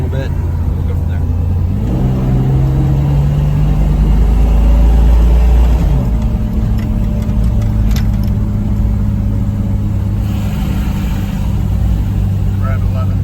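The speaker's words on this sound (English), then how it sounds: "You'll hear the engine go a little bit." A 1990 Toyota Land Cruiser FJ62 engine pulls up a steep incline, its low drone dropping and then rising in pitch as it works under load, steady and close throughout with a brief voice speaking.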